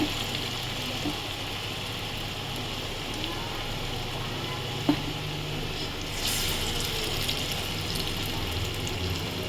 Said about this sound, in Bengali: দেখুন বন্ধুরা, এইভাবে সবকটা পকোড়া ভেজে নিতে হবে।